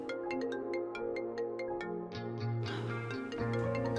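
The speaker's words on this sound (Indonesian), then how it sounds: "Kok nggak diangkat-angkat ya sama Yasmin?" A phone ringtone plays as a melodic electronic tune of repeating chimed notes, fairly close and steady, shifting into a fuller synth pattern partway through, with no speech.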